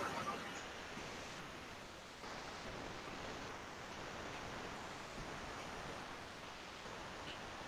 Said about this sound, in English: this is rainfall in the background